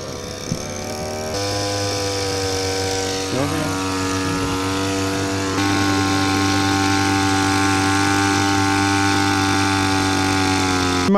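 The small engine of a crop sprayer mounted on a motorcycle runs steadily near the listener, a loud continuous buzzing drone that steps up in speed a couple of times. No one speaks.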